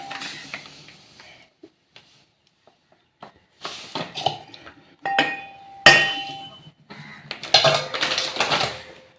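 A bowl is handled while Bombay semolina is measured in a home kitchen, with scattered clinks, taps and scraping of kitchen vessels, quiet at first and then louder, irregular clatter, with no talk.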